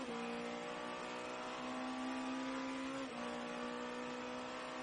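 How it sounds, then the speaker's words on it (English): Porsche Penske Motorsport V8 twin-turbo race car engine at the Monterey IMSA SportsCar Championship, a faint, sustained droning engine tone with a slight pitch shift partway through, heard without talk. "The engine you can hear is that of the V8 twin turbo of the unbeaten number 7 squad for Porsche Penske Motorsport, Felipe Nasr."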